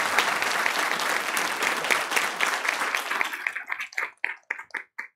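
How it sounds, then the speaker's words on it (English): Audience applause at a research showcase plenary session, a dense, steady round of clapping from a large crowd that thins into scattered individual claps near the end. "Another round of applause."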